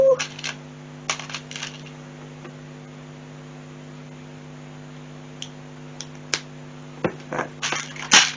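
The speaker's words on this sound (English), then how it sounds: "it's like all ASMR time whilst I root parts" Small LEGO plastic parts clatter and rattle in scattered bursts while being rummaged through, close and fairly clear over a steady low electrical hum, with louder clusters of clicks near the end.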